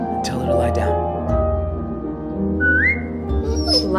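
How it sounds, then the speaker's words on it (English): A person whistles to a dog in The Walking Dead video game, with short rising whistle calls mixed in among game voices and background music. "Now whistle and tell her to lie down."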